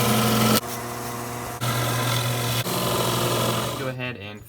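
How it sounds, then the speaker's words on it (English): A spindle sander shapes a wooden sunglasses frame, its motor holding a steady, close drone while the grinding texture shifts every second or so as the wood is pressed and repositioned, then tails off at the end. "Go ahead and finish cleaning this up on the spindle sander."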